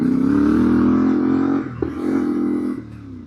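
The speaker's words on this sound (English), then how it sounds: "There's so many bikes." A large group of motorcycles rides past on a dirt bridle track, their engines droning loud and close before dipping and swelling again as more bikes follow.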